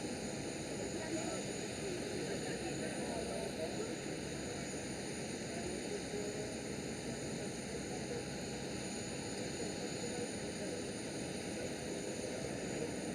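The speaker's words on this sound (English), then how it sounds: "right over here we do have Qatar Cargo 777 just slowing down on the" A Qatar Cargo Boeing 777 slowing down on a runway at Amsterdam Schiphol, heard as a distant, steady broadband jet roar with faint sustained engine tones, unbroken for over ten seconds.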